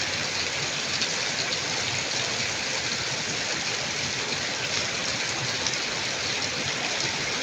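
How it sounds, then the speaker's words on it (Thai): Steady rain pours down continuously, a dense even hiss of drops with no other sounds and no talk. "ดูครับฝนตก"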